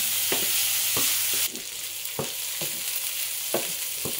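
Pork frying in oil until golden brown, a steady crackling sizzle close by, punctuated by several sharp stirring scrapes spaced about a second apart, the hiss easing slightly partway through.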